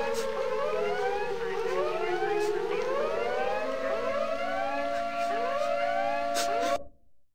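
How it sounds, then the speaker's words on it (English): A loud, wailing siren in a scary video game rises and falls continuously, layered with overlapping tones, then cuts off abruptly at the end. "Got sirens going off."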